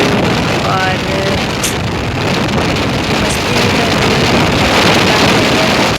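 A motorbike riding along a highway near the Patna ghat, heavy steady wind roar buffeting the microphone with engine and road noise underneath, loud and continuous for the whole stretch.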